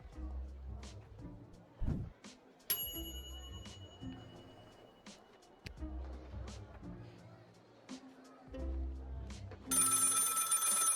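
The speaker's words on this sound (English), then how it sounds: "The phone is ringing." A telephone rings in the video game Lil' Guardsman, repeated bell-like rings spaced through the passage amid other game sounds and chimes, with a voice speaking at points.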